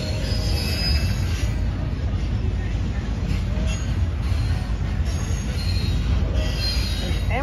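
A train rolls by up close, slowing onto a railway siding, wheels squealing over a heavy, constant rumble of rail cars.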